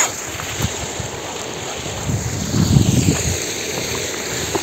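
A gurgling mountain stream runs past a trout farm in Gokulganga. The rushing water is steady, wind buffets the microphone, and the flow swells louder for a moment in the middle.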